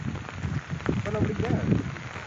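Heavy rain pours steadily in a village during a downpour, a dense continuous hiss with a few louder splashes, while people talk nearby over it.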